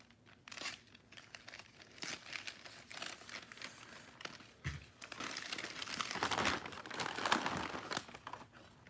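A wrapped package is torn open by hand, with papery crinkling and ripping in irregular bursts, quiet at first and then busier and louder toward the end, with no talking.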